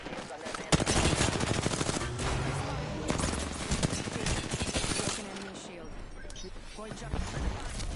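Rapid gunfire from the video game Apex, dense bursts of automatic shots that run almost continuously for several seconds, loud and close, with voices talking over the shooting.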